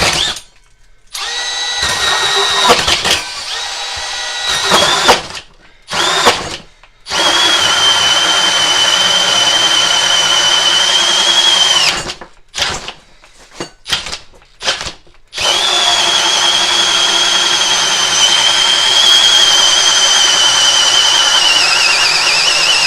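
A Milwaukee M12 FUEL hammer drill/driver runs in long, loud, steady whirring bursts with a high motor whine, separated by several brief stops and restarts, with no talking.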